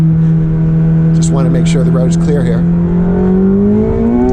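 A McLaren 720S engine drones loud and close while driving, its pitch climbing steadily as it revs, with someone talking over it from inside the car.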